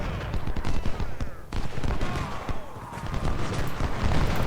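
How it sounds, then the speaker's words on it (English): Dense battlefield gunfire and booming artillery in Ultimate General: Civil War at the Second Battle of Bull Run, a continuous rumbling barrage of overlapping shots and blasts with no pauses. "And we are getting much more artillery fire now."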